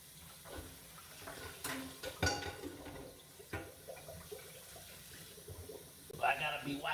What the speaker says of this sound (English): y'all want to see me do dishes?